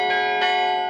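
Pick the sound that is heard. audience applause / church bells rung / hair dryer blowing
church bells rung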